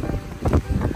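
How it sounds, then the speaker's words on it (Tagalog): Strong wind at Gamcheon Culture Village in Busan buffets the microphone in close, low rumbling gusts that pulse several times within a second. "Although, oh my gosh, lakas ang hangin."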